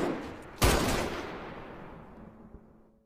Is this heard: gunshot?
yes